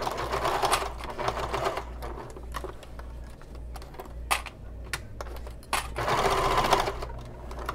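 A sewing machine basting across two bag pieces with a half-inch seam allowance, running in steady bursts with a brief slower, lighter stretch of stitching between two louder runs.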